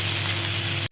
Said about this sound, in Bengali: এবার ধোয়া চিকেনগুলো দিয়ে দেবো।